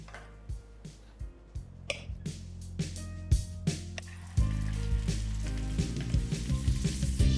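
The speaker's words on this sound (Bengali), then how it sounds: "আর তেলটা একটু গরম হয়ে গেলে আমি এখানে ইলিশ মাছগুলোকে ভালো করে ভেজে নেব।" Hilsa fish pieces frying in hot mustard oil in a frying pan, a steady sizzle that swells louder partway through, with scattered pops and crackles and light clinks over the top.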